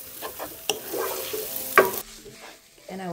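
Vegetarian mee hoon goreng stirred and tossed in a hot pan, a short burst of sizzling with a couple of sharp utensil clacks against the pan, close up and without speech.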